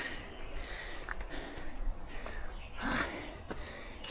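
Heavy breathing and gasping from a person winded after climbing uphill to Choec Van Beach, close and fairly quiet, with sharp breaths rising over a soft outdoor background.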